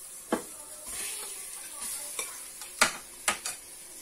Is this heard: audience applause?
no